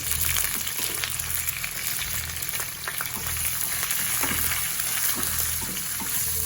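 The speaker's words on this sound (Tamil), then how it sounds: "இதுவும் சேர்ந்து நல்லா பொரிஞ்சு வரணும் அந்த மிளகு சீரகம்" Cashews, curry leaves, pepper and cumin fry in a pan with a steady close sizzle and scattered small pops and crackles. No one talks.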